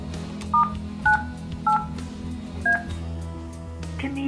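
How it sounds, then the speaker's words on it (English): Touch-tone keypad dialing on an italk T29 IP desk phone: four short two-note DTMF beeps spaced about half a second apart, a longer pause, then one more tone, all over a steady low background hum. "press *98 and then send. Enter the desired mailbox number and password"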